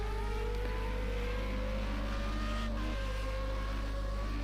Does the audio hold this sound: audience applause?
no